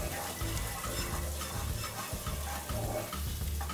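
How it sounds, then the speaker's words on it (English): Abacha with chopped onions being stirred in a pan as a garnish, a steady scraping and sizzling with a low rhythmic rumble, close and continuous, with no talk. "So to stir? I'm stirring it."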